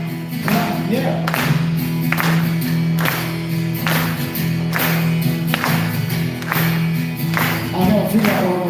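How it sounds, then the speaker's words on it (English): Christmas concert audience clapping along in a steady rhythm, about one clap each second, over sustained music with a singer's voice. "So why don't you clap your hands together with me"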